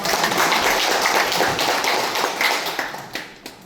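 Audience applause in a National Assembly meeting room, a dense and fairly loud patter of many hands that keeps up and then thins into a few last scattered claps.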